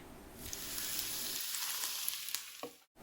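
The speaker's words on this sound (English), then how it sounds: "in a pan we'll add 2 tablespoons of oil and we'll add in the onions" Chopped onions frying in two tablespoons of oil in a pan, a steady close hiss and crackle of sizzling that fades slightly near the end, with no talking.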